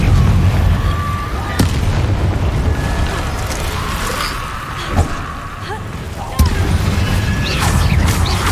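A Confringo fire spell explodes in Hogwarts Legacy with sudden booming blasts over a dense roar of game action and effects, the loud hits landing at intervals.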